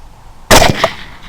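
A single sharp rifle shot aimed at a wild hog sow cracks loudly and close by outdoors, followed by a short echoing tail and no talking.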